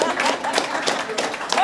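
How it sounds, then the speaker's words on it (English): A crowd claps for the mayor at a youth under-15 football event in Morocco, a steady patter of many hands mixed with voices. "You clap for the mayor, clap for the mayor."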